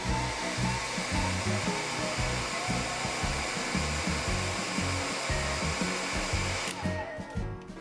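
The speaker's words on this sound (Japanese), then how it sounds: "でこんな風に溶かせたらドライヤーでここの部分を乾かします" A hair dryer blows steadily and loudly on a watercolor pencil painting to dry the wet pigment, a continuous broadband whoosh that cuts off abruptly near the end.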